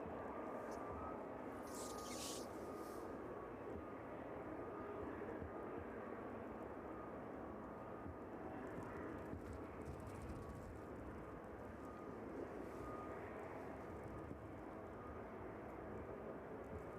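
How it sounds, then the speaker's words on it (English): A Boeing 777 cargo jet waits to taxi on the DHL apron at East Midlands Airport in the evening, giving a steady, distant whining engine drone that holds throughout with faint airport background noise. "That 777 just waiting to taxi out now."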